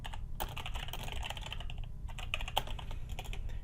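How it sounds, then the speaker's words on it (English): Fingers type quickly on a computer keyboard, a close, dense patter of key clicks with a brief pause midway over a low background rumble. "I'll just go ahead and type it out here"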